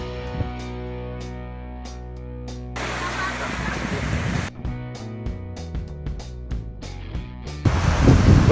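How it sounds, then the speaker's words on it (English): Surf at Guam Beach in Rakhine, a rushing wash of waves and wind that swells in bursts between quieter stretches, with scattered thumps and handling noise from a close microphone, and people talking nearby. "here we are at Guam Beach"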